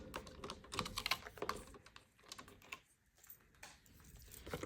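A blade slices through matte vellum paper while an envelope is cut out, giving a quick run of soft, close ticking and scraping strokes that come in uneven bursts and then trail off.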